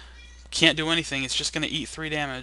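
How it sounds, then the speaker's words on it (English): A pet cat meows repeatedly in the background during a card game session, clear drawn-out calls overlapping someone talking nearby. "I know you can hear my cat in the background because he's being noisy"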